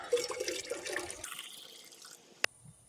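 Hot water runs and splashes over gold residue, a gurgling wash for about two seconds that stops with a single sharp clink at the end.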